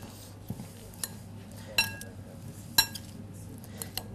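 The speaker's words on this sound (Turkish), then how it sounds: "Şimdi iki tane kaşık alayım. Karıştıracağım." Two spoons mixing a bean salad, scattered light clinks and taps of metal against a dish at irregular intervals, close and fairly quiet over faint background hum.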